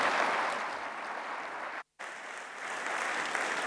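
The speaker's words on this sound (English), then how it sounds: "warm round of applause for your remarks" A conference audience in Rwanda at TransformAfrica 2018 gives a warm round of applause, a dense, steady roar of many hands clapping. It is broken by one brief cut of silence near the middle, then continues at full strength.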